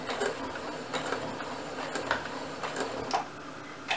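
A home sewing machine backstitches a face mask seam, a steady close mechanical whir with quick rhythmic needle ticks running throughout.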